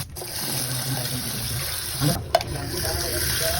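Rice is rinsed under a running kitchen tap, a steady close stream of water with a brief splash and clatter partway through, and faint voices in the background.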